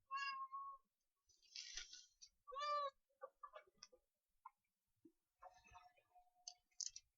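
A house cat meows several times at close range in a quiet room, with short and longer calls spaced out irregularly, along with a few soft clicks and small handling noises between them.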